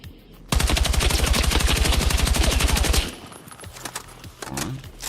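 A long, fast machine-gun burst in Battlefield 6, evenly spaced loud shots for about two and a half seconds, then stopping, followed by quieter clatter and handling noises.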